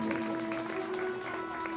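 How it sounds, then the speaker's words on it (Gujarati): Audience applause at a bhajan gathering, a steady patter of clapping heard faintly at a distance, continuous and even through the short moment. "એક વખત જોરદાર તાળીઓથી એમને વધાવી લો."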